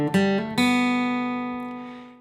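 An acoustic guitar plays a few quickly picked notes from bar 3 of the Irish tune The Foxhunters, then lets a final note ring and slowly fade, clear and close.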